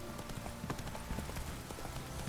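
Horse hooves trot at a steady clip-clop rhythm in the video game The Witcher 3, moderately close and fairly quiet under a bed of ambient game sound.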